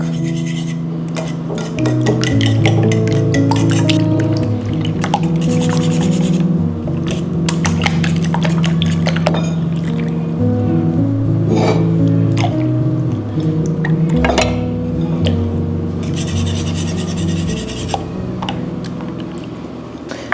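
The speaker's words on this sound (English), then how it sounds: "We'll whisk that and then add 3/4 cup of whole milk." A whisk works through breakfast batter made with whole milk in a home kitchen, giving a steady wet swishing and tapping against the bowl, loud and close, with a tonal hum running underneath.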